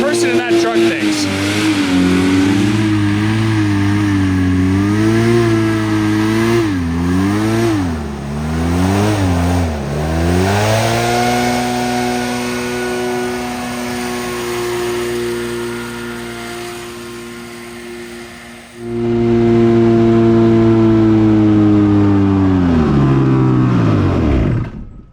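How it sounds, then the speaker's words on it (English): A hovercraft engine drones steadily at mid pitch, its pitch wobbling up and down as it strains and falters while seizing up, then dropping out briefly before roaring back loudly near the end. "I'm not sure why, but the engine is seizing up"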